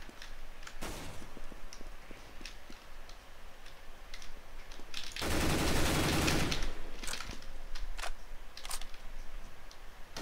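A loud, sustained burst of machine gun fire in Counter-Strike: Global Offensive lasts about a second and a half, framed by scattered sharp clicks and single distant shots.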